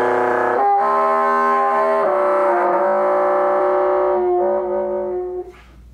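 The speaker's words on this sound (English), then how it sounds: "There are things that we can do like multiphonics," A sustained bassoon multiphonic chord, several reedy tones sounding at once, shifting in a few steps before fading out, played alone and close.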